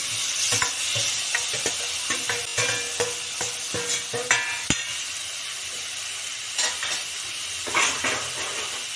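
Boiled cauliflower, peas and potato sizzle in a pan of spiced oil while a spoon stirs and scrapes, with irregular clinks and scuffs over a steady frying hiss.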